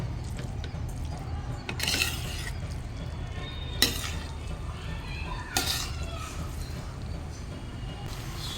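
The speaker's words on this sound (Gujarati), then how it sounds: "ઉપરથી નીચેની તરફ હલાવજો જેથી મસાલો બધો આપણા નૂડલ્સમાં સરસ મજાનો ચોંટી જાય" Hakka noodles tossed with masala in a pan, stirred from top to bottom: soft scraping and clattering strokes over a low sizzle, with a few sharper utensil hits against the pan.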